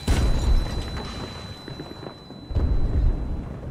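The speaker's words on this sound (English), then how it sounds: "they just lobbing grenades at me" Grenades burst in Battlefield 2042 Portal, giving two heavy, booming blasts, one at the start and another a couple of seconds later, with low rumbling debris in between.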